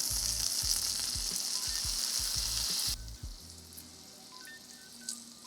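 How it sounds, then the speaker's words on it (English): Butter, minced garlic and squeezed orange juice sizzle in a pan for a citrus sauce for glazed salmon, a bright steady fry with rhythmic stirring thumps, then the sizzle drops away to a quiet simmer. "to build the sauce, I'm going in with a tablespoon of butter, 3 cloves of minced garlic, and squeezing in the juice of 2 oranges"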